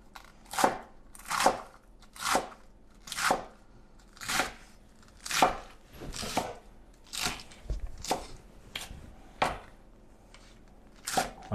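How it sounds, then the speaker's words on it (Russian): A knife cuts iceberg lettuce on a board in a home kitchen, giving about a dozen crisp, crunchy chops in a loose, fairly regular rhythm, close and clear with no talk. "А мелко ли резать айсберг?"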